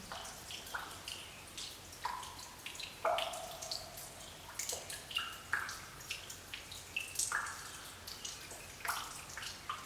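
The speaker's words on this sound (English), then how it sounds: "So, water is dripping in there." Water drips into a low garden cistern, with repeated bright plinks spaced irregularly over about ten seconds, fairly faint against quiet outdoor background noise.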